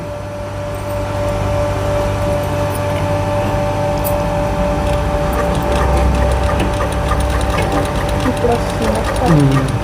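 A sewing machine stitches piping in a tailoring class, a steady close mechanical whirr running throughout with someone talking over it.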